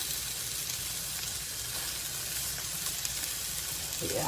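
Onion slices sizzle steadily on a hot griddle for a burger, a dense, even hiss that stays close and loud throughout with no talking over it.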